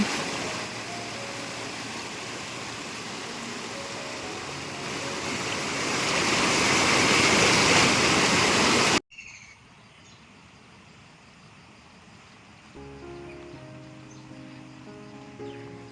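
A monsoon-flooded river in Konkan rushes with a loud, steady roar that swells before cutting off abruptly. Quieter outdoor ambience follows, with insects or a bird calling.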